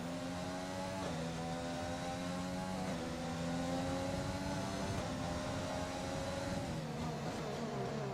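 Formula 1 race cars from F1 2019 scream past on track, a steady high-pitched engine whine with stepped gear shifts and pitch drops, loud and continuous with no talk.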